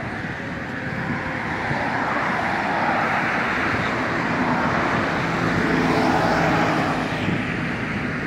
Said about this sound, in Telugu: మినిమం 80-90 స్పీడ్లో వస్తున్నాయి బండ్లు.